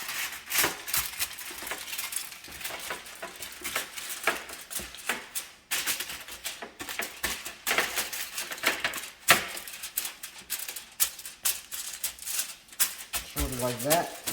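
Aluminum foil is pulled and pressed into a baking dish for meatloaf, a close, uneven run of sharp crinkling and rustling bursts with brief pauses and a faint voice at moments.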